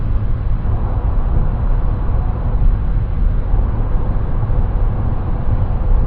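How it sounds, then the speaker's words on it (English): Constant broadband rumble and hiss of tires and rushing wind heard from inside a Dongfeng Box car moving at about 135 km/h at night, loud and unbroken throughout. "There's already a lot of tire noise and wind noise."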